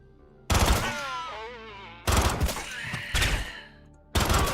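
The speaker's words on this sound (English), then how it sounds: "Nail gun, let's go! Now we need rapid fire here." A nail gun in the Quasimorph video game fires in quick automatic bursts, three or four loud rattling volleys separated by short pauses, with whining tonal sweeps trailing the first burst.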